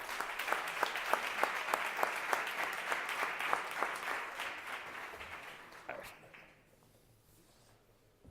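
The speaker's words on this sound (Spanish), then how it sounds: "Y les recibimos también con un aplauso." Audience applause welcoming rescue team members at an emergency engineering conference, a dense steady clapping from a crowd with sharp individual claps standing out, fading away over the last couple of seconds.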